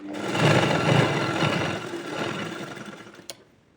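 A sewing machine stitching pleats on a baby frock runs in one steady, close, whirring burst that slows and stops near the end.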